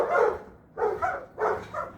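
Dogs barking in three separate bursts, each lasting about half a second, spaced evenly apart and fairly close, with no talk over them.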